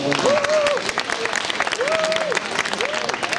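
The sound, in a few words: applause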